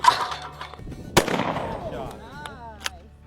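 A single shotgun blast fired at a clay target during outdoor trap shooting, a sharp close crack that fades quickly amid faint background voices.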